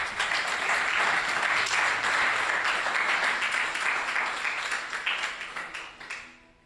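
A church congregation claps in dense, sustained applause for the Lord, loud and even before tapering off at the end.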